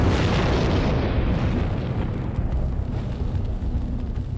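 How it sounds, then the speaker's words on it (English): A huge explosion, apparently a fuel bowser's worth of petrol going up as a distraction during an airliner hijack assault, bursts loud and close, then rumbles and rolls away over several seconds. "On cue, the Somalis set off a huge explosion as a distraction."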